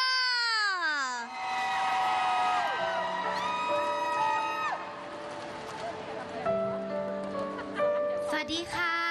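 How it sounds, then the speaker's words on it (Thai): Concert audience at a Thai live music show screaming and cheering loudly for a television drama's lead actor and actress, a sustained roaring crowd of high-pitched shrieks with music tones running underneath throughout. "ขอเสียงกรี๊ดดังๆ"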